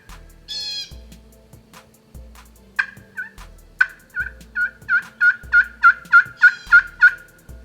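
Wild turkey gobbling in the Kentucky woods on an early spring afternoon, a rapid run of loud, rhythmic gobbles building to about a dozen closely spaced pulses near the end, with a few earlier scattered calls and low rumbling background.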